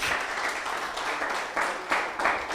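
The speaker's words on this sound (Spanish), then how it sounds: "Dale un aplauso fuerte al Señor si tú lo crees." Congregation at a Sunday church sermon applauding loudly, a dense steady wash of many hands clapping with a few stronger swells, no voices over it.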